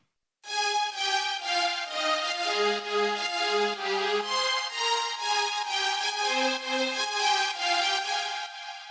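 A Nexus string patch layer in a progressive house production, playing a sustained harmonic chord progression with shifting low notes, loud and steady throughout with no talk.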